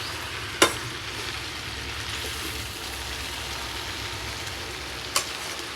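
Vegetables frying in a pan make an even, soft sizzling hiss throughout, with two sharp utensil clicks, one early and one near the end, and no voices.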